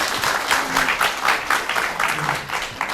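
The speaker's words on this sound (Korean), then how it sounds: "견디신 두 분께 이제 박수를 드립니다." An audience at a book talk applauds steadily, with continuous, moderately loud clapping throughout that pulses slightly in strength.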